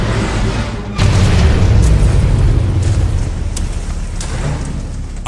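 A base blowing up in the game Command & Conquer: Rivals, a loud sudden boom that swells into a rumbling, crackling burst and then tails off into debris noise.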